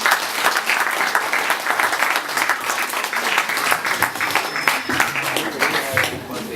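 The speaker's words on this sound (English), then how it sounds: "I want us to give a very, very big round of applause for everybody who have helped me to make this a success." Loud, sustained applause from a crowd at a 50th birthday party, dense clapping filling the whole stretch without letting up.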